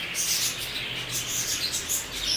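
Green ringneck parakeets and cockatiels in breeder pairs chirp together, a faint, continuous twittering of high calls over low background hum, without speech.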